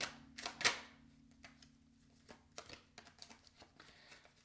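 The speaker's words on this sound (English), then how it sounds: "Let's just do a bit more shuffling" Tarot cards are shuffled in quiet, irregular riffles and soft taps close by, with a sharper flurry near the start and lighter patter afterward.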